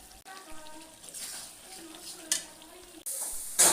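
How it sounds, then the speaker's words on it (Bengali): Chicken and potatoes are stir-fried in a pan with a little water, giving a short spell of soft sizzling and scraping stirs that grows louder toward the end, with a faint voice talking underneath. "সামান্য পরিমাণ জল দিয়ে ভালো করে আলুটাকে কষিয়ে নিচ্ছি"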